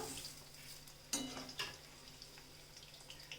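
Sweet corn pakoda frying in hot oil gives a steady crackling sizzle, with a couple of sharper spatters and light stirring clinks close by.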